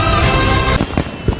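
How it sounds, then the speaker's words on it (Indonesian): Fireworks from a factory explosion crackle and pop in a dense, loud barrage, followed by several sharper separate bangs. "Langit pun dihiasi pemandangan kembang api akibat ledakan sewaktu di pabrik tadi."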